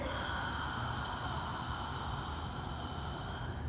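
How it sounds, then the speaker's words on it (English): Steady, hollow whispery Ujjayi breathing through a constricted throat, continuous and close, with no talking. "it creates this hollow, whispery sound as you pull the throat back"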